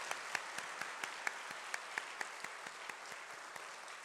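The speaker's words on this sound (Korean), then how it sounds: "박수로 한번 감사의 표현을 하면 좋겠습니다" Faint, distant applause from a church congregation at an Easter Sunday service, a soft steady patter of many hands with a few sharper individual claps standing out at regular intervals, no talking over it.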